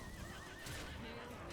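A horse neighs in a card video game as horses are drawn, a short whinny with clip-clop hooves, clear and brief over a faint voice.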